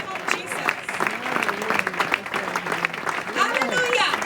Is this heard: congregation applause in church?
yes